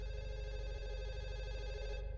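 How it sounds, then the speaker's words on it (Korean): A telephone rings steadily for about two seconds in the horror video game Fatal Midnight, a continuous electronic ringtone over a low droning game ambience, with no talking. "전화 오네?"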